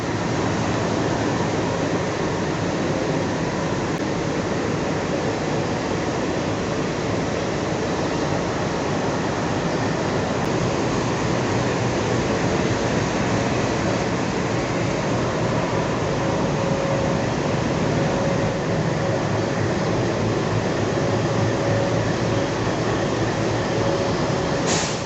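A passenger train at a station between Parbhani and Nanded gives off a dense, constant mechanical roar and hum, loud and unbroken throughout with no talk.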